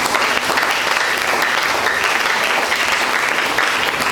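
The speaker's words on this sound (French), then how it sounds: "Je vais encore acclamer" Church congregation applauding during a French-language prayer service, steady dense clapping that fills the whole stretch at close, even loudness with no voices on top.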